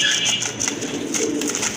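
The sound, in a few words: pigeon cooing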